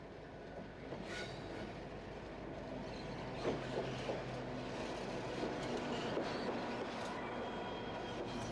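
A freight train hauled by class 59 locomotive 59003 rumbles steadily past at Witham in heavy rain, with rhythmic clatter of wagons on the rails and a broad wash of rain noise beneath it.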